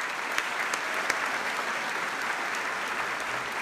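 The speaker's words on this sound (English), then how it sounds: "please give them a round of applause" Applause from the audience at an awards banquet, dense continuous clapping at moderate distance with a few sharper close claps standing out, no talking.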